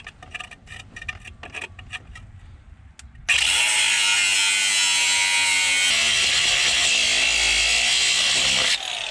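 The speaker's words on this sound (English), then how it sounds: "I'm gonna go ahead and just cut this nut off on this side." A power tool cuts through a nut on a car, starting abruptly after some faint clatter and then running as a loud, continuous, high-pitched grinding whine for several seconds before easing off.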